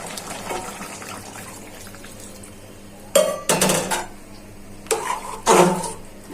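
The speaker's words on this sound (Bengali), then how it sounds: "এখন জল দিয়ে দিচ্ছি বোনেরা।" Water splashes from a pot into a simmering snake gourd and potato curry with golsha tengra fish, two short pouring bursts amid faint clinks of pans and utensils nearby.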